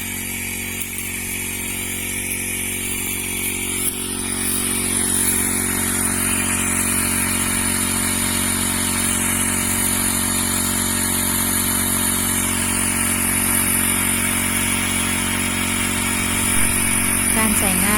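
A grass trimmer's small engine, repurposed to drive a water pump, runs continuously at a steady, loud buzzing drone throughout, with a voice faintly audible at times.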